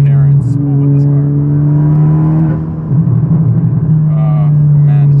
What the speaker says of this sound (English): Just hear the turbo spool. You definitely hear it though, like it's a very apparent spool with this car.